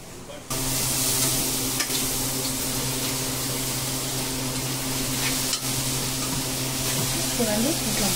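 Okra, tomatoes and onions fry in a pan with a steady, loud sizzle that runs throughout after a short quiet start, with a voice talking over it.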